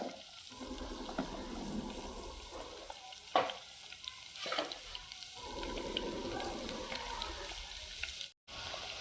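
Garlic and cumin seeds frying in a pan for tamarind chili paste: a continuous sizzle with occasional stirring scrapes and a couple of sharper clinks, steady and close, briefly cutting out near the end.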